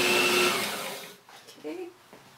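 A small food processor whirs loudly on a pulse of apple bar crumb mixture, then winds down and stops, with a voice speaking briefly after.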